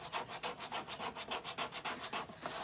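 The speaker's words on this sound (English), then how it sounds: "I'm going to scrape the paste." A paste scraping tool drags across dried paste in quick, regular rasping strokes, about six per second, up close and fairly quiet, with no speech.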